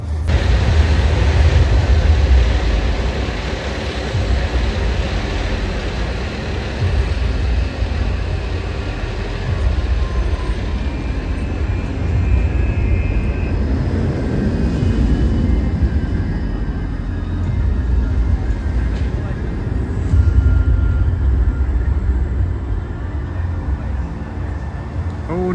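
The Hyperia roller coaster train rumbles steadily around the track, a broad low roar that swells and fades over time, heard from a distance outdoors.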